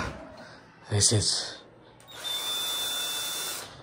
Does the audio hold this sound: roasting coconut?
no